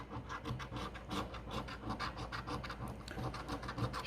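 A coin scratching the coating off a French scratch-off lottery ticket, a close, quiet, steady rasping with quick repeated strokes and no talking.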